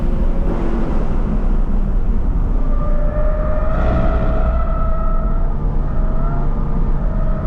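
A Toyota GR86 driven hard around a race track, its engine a loud, continuous close-up drone with pitch rising and shifting through the lap and no voices over it.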